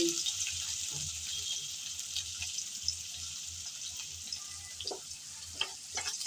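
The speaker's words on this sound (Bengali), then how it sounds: "এখন নেড়ে চেড়ে হালকা করে পেঁয়াজ রসুন ভেজে নেব" Chopped garlic and onion frying in the oil left over from frying eggs, a steady hissing sizzle with light stirring and scraping against the pan, close up and with no voices.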